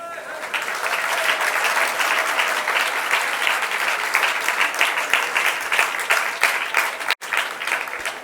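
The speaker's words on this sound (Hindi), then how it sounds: "ताली बज रही है।" An audience at a religious discourse beside a river ghat claps loudly and steadily, a dense continuous ovation that breaks off briefly near the end.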